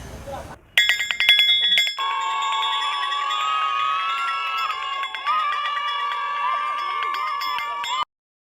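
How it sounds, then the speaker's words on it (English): A school bell rings at closing time in the evening: a bright, rapid burst of ringing, followed by a lively, sustained wash of sound like children crowding out of the gate, fairly loud throughout. "The school bell rang."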